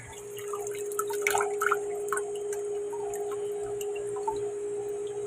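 Water drains and drips from a washing machine, with scattered irregular drips and splashes over a steady low hum, moderately quiet and with no voices.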